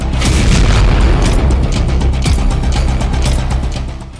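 A sustained deep rumbling roar from an explosion after a Ukrainian drone attack on Toropets, Russia, loud and continuous with crackling bursts throughout, no voices.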